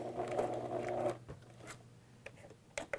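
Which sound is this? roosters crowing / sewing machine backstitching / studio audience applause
sewing machine backstitching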